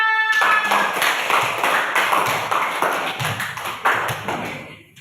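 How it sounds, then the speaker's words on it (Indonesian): Students in a classroom clapping, a modest round of hand claps with distinct individual slaps, close and bright, starting abruptly and gradually thinning out toward the end. "Tepuk tangan."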